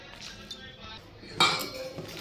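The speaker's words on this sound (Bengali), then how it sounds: "অল্প জল দিয়ে মেখে নেব" Cauliflower pakora batter mixed with a little water in a bowl, with soft scraping and clinks of a spoon against the dish, close and fairly quiet, with a sharper clatter partway through.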